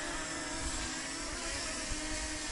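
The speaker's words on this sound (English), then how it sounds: "it's really fun to fly this drone" Steady whirring of a DJI Mini 2 drone's propellers while it flies in windy, cold weather outdoors, a continuous broadband drone hum mixed with wind rumble, loud and unbroken throughout.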